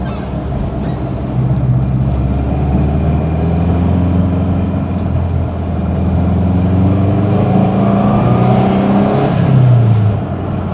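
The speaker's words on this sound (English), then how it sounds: "it's got that classic Subaru noise" A Subaru Brumby's flat-four engine drones steadily from inside the moving ute, its low note rising and falling with throttle and a clear pitch sweep near the end, with no talking.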